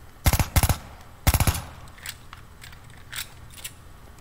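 A Star Wars style blaster fires in the Tekken Blood II game: two quick clusters of sharp rapid shots up front, followed by fainter scattered pops and zaps.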